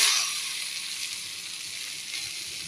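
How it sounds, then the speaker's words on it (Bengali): Sweet pumpkin frying in a pan gives a steady, close hiss of sizzling oil that is slightly louder at the start, then settles to an even crackle with no one talking. "এখন আমরা মিষ্টি কুমড়া ভাজি করতেছি।"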